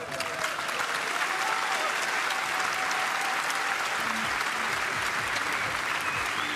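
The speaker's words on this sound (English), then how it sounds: "the appreciative crowd with a round of applause for both athletes' efforts" A kickboxing event crowd in Lille, France, breaks into sustained applause, a steady wash of clapping and cheering that holds at an even level throughout.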